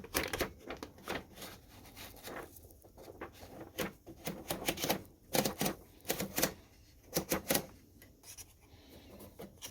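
An antique Remington Junior typewriter over 105 years old, missing the rubber rollers on its paper holders, being typed on: close, loud keystrikes in uneven bursts with short pauses, clacking alone.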